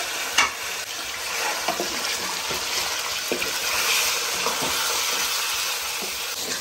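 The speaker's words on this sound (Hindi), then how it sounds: "और यहाँ पे चिकन को अच्छी तरह भून लेंगे।" Boneless chicken frying in a pan over a gas stove, with a steady sizzle and hiss and occasional stirring scrapes, moderately quiet and continuous with no talking.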